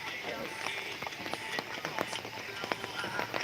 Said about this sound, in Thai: เออฝนกระตกได้ครับ